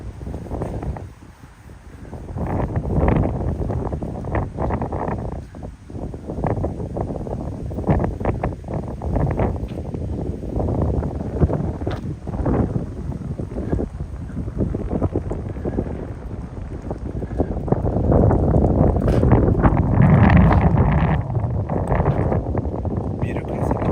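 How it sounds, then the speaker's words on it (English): Strong wind gusts at a building entrance among high-rises in Kawasaki, Japan, roaring and buffeting the microphone without a break and growing heavier toward the end. "I think that's the reason why it's so windy at this specific spot."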